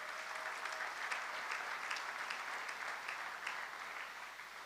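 A congregation applauding during a Sunday church service, a sustained, even patter of many hands clapping together, fairly distant and unbroken throughout.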